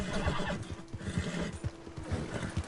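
A horse neighs and whinnies loudly over rhythmic hoofbeats in Red Dead Redemption 2, close and continuous, with a game-like mechanical background.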